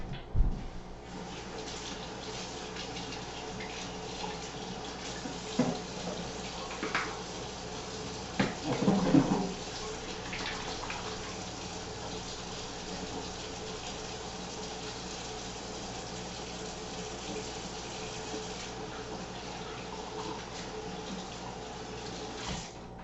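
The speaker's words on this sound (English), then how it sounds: "So let me quickly go wash myself, and we'll do the next one." Water runs steadily from a bathroom tap during washing up after makeup, a continuous close hiss with a few splashing bursts partway through.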